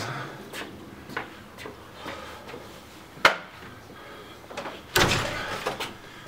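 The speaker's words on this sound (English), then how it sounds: "somebody's kicking on my front door" Solid front door, being tested against kick-ins, takes a series of sharp impacts, with two hard bangs standing out among lighter knocks and rattles, heard fairly close with no talking.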